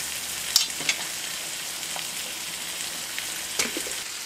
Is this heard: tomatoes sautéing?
yes